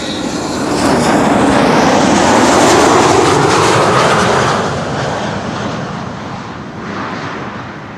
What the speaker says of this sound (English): Lot flight 263 and Embraer 195 arriving from Warsaw